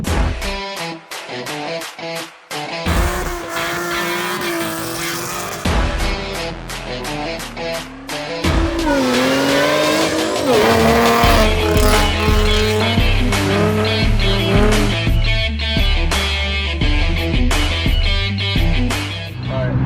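A supercharged M122-swapped 3.7 V6 Mustang makes a first-gear wide-open-throttle pull, engine note climbing sharply in pitch and loudness and holding a hard roar, preceded by sharp clicks.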